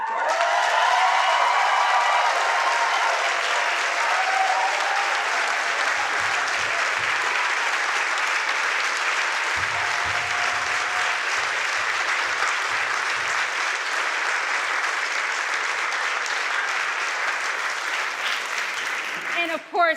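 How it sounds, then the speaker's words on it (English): A long, steady round of applause for a theatre production's musical director, dense and sustained from a large audience with scattered voices underneath, fading at the very end. "can we please just give another round of applause for our wonderful, amazing, fabulous, fantabulous musical director, Mr. A.J. Walker"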